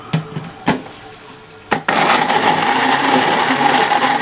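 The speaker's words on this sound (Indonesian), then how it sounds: "Ya, ini kita coba yang pakai blender Jerman." A German-made kitchen blender starts after a few short knocks and then runs steadily, a loud continuous whirring motor that fills the rest of the clip up close.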